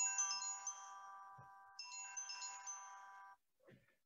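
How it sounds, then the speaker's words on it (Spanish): A mobile phone ringtone plays during an online academic webinar, a steady electronic melody of sustained tones that rings for about three seconds, pauses briefly, then resumes, fairly loud and alone, followed by a soft rustle. "me sonó el teléfono"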